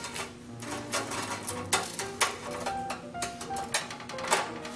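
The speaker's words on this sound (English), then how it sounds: "These sat on this rack for 15 minutes, and this is what they sound like." Crispy onion rings that have rested 15 minutes on a rack after frying are bitten and chewed, producing a series of close, sharp, irregular crunches and crackles at moderate volume, with no talking.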